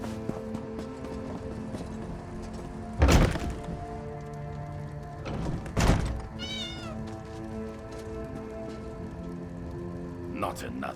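A cat meows in The Elder Scrolls Online, a single drawn-out call inside Eastmarch, set against a steady ambient game soundscape with a couple of sharp thunks around it.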